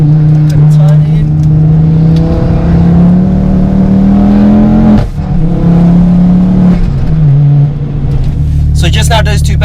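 A 415bhp Ford Focus ST with a forged engine and RS parts pulls hard through bends, its loud engine drone rising through the gears with a brief dip at the shift while the driver talks over it.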